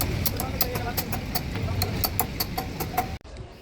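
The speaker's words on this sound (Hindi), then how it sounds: "अगर इंजन की नॉइज़ चेक करनी हो ना तो इस पे हाथ रख लेना और फिर सुनना" A Royal Enfield Bullet motorcycle idles with a steady, fast ticking engine beat close by, a person talking over it before it abruptly cuts out near the end.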